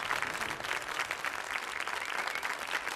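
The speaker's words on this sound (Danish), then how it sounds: "jeg synes, vi skal give Tommy et bragende bifald igen" An audience applauds the winner Tommy at the 1979 Dansk Melodi Grand Prix, loud, dense, continuous clapping from a large crowd that holds steady throughout.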